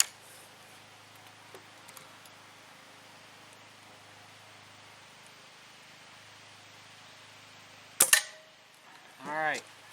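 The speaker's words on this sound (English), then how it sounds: "So we'll fire off 2 more and we'll check and see how lousy we did" A Crosman Phoenix .177 nitro air rifle with open sights fires once on a target range, giving a sharp, loud crack after several seconds of quiet background hiss, followed by a short ringing, warbling tone.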